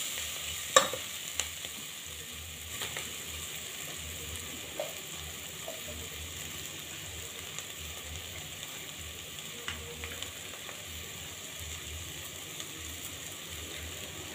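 Vegetables with paprika sauté in a pan, a soft continuous sizzle under occasional light spoon taps and stirring scrapes, quiet and close throughout.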